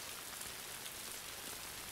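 Steady rain falls as a soft, even hiss with dense patter, quiet and constant throughout with no voices.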